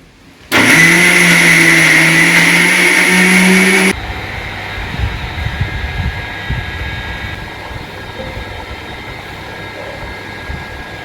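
A kitchen mixer grinder whirs loudly and steadily, grinding grated coconut pieces for homemade coconut oil, then cuts off abruptly, leaving a low background hum and faint clatter.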